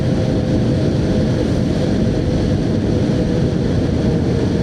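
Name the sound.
motorcycle engine revving at full throttle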